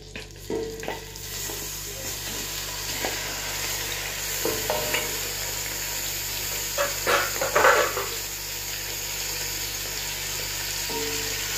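Chicken pieces dropped into a hot pan sizzle and fry with a steady crackle, punctuated by a few louder spatters and stirring scrapes, close and without talk.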